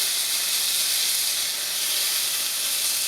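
A steak sizzling in a hot skillet with rosemary, a steady loud hiss filling the whole stretch without pause, close up and alone.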